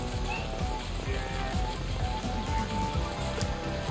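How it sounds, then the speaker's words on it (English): Dense, steady patter of heavy rain in the video game Astro's Playroom, with a constant hiss and scattered ticking, continuous and fairly loud throughout. "Oh, that's heavy rain. That makes sense. It's raining."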